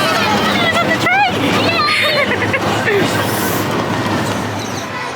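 The Big Thunder Mountain ride train at Disneyland Paris rumbles and rattles along its track, loud and steady, with wheel squeals and excited voices shouting over the clatter.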